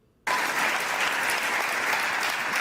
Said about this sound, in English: Just listen to the clapping